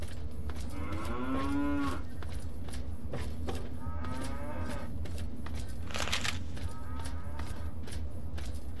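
Cows mooing in the video game Fallout 3, with several low, drawn-out moos at mid distance over ambient game noise and faint footsteps.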